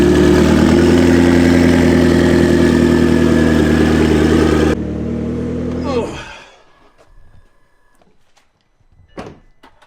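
Loud, high-horsepower car engine idling close by with a rough, pulsing rumble for several seconds, then cutting off, followed by near silence with a few faint clicks and a door-like thump.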